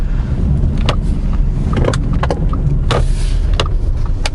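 An Audi A4 B8 pulls away from a standstill and picks up speed, a steady close engine and road rumble with a few sharp clicks and knocks scattered over it.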